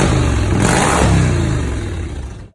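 A 2020 Cub Cadet Pro Z 900 zero-turn mower's engine runs close by with a steady, broad mid-pitched roar that swells slightly and then cuts off at the end.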